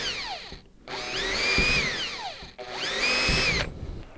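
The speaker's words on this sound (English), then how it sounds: "So I'm gonna start drilling." A power drill bores a series of holes while building a packable automatic ice fishing hook setter, two loud whining bursts with rising and falling pitch, each about a second and a half long, separated by a brief pause, no voices.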